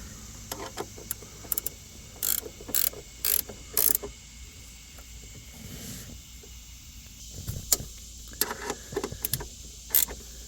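Seatbelt webbing being pulled from the retractor in a 2023 Nissan Murano during seatbelt replacement: a series of short, close mechanical ratcheting and sliding bursts in irregular clusters, with no talking.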